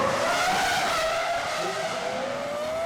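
Formula 1 cars from the 2003 season screaming past at high revs on circuit, a loud continuous engine whine that shifts pitch as the cars close in and pull away, with a faint tyre squeal.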